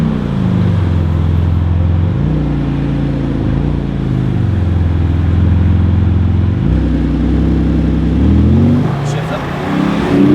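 A Porsche GT2 RS engine drones loud and close while driving, its pitch climbing steadily under acceleration, dropping at each upshift and climbing again in repeated waves.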